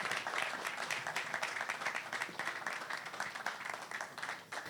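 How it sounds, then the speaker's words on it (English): An audience at a property developers' forum claps in a dense, lively round of applause, a continuous patter of many hands held at an even level for a few seconds. "A round of applause for Mr."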